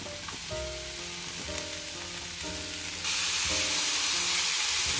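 Bacon and mushrooms sizzle steadily in a hot pan for carbonara, a dense continuous frying hiss that grows louder and brighter partway through, with faint clinks of a utensil stirring and no one talking.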